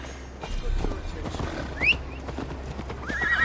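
Horses gallop on a ride in Assassin's Creed Valhalla, with steady clip-clopping hooves close by and a sharp whinny partway through, over a low rumble of movement.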